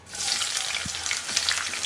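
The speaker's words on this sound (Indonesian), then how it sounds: "Sekarang kita sisihkan, kita siapkan wajan, tambahkan minyak." Cooking oil hitting a hot wok for a stir-fry, giving an immediate loud, even sizzle and crackle that holds steady for about two seconds, with a couple of small pops and no voices.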